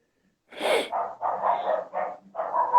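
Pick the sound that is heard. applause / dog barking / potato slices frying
dog barking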